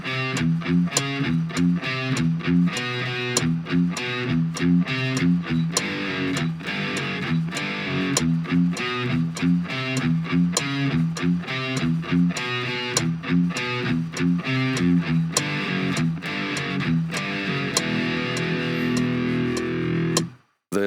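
Distorted electric guitar plays a dense, driving section of a song for about twenty seconds, with steady fast palm-muted chugging and accented chords, loud and continuous. It stops abruptly at the end.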